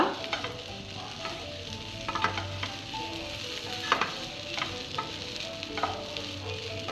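Gobi fry of cauliflower with kitchen king masala stirred in a pan, with a steady close sizzle of frying and scraping spoon strokes, fairly quiet and continuous.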